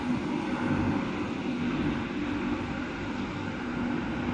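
A British Rail Class 185 diesel train pulls hard away from a station, its engines roaring steadily and loudly with a broad rumble throughout.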